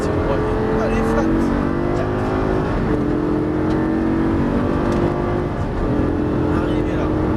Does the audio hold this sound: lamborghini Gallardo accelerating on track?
yes